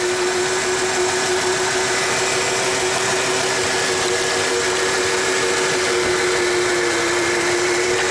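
A 1994 Ford F150 that runs rough idles steadily during a cylinder drop test, giving a continuous loud engine drone with a steady hum and a broad hiss, and no voices.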